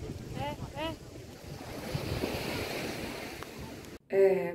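Surf washing ashore at Ponti beach on Lefkada in July, a steady hiss of breaking waves mixed with wind buffeting the microphone, faint voices early on and a sharp louder noise near the end.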